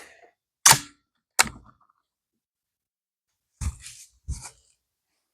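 Four sharp gunshots from a handloaded firearm crack outdoors, two close together near the start and two more a few seconds later, each a loud isolated report with a short decaying tail and silence between.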